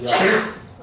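A single sneeze bursts out during a school board meeting, loud and close, about a second long with a sharp onset that fades quickly into room tone.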